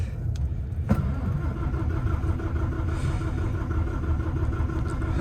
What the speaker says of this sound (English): Right, well, we'll fire it up, or we'll see if it'll fire up first.